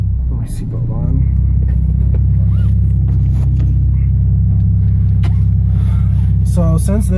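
A modified 2003 Nissan 350Z Touring rumbles steadily on a short drive, its engine drone loud and constant from inside the cabin, with a brief voice near the start and end.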